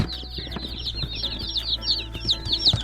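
Mail-order meat chicks picked up at a post office peep in rapid, overlapping high chirps, a busy chorus close by with faint rustling underneath.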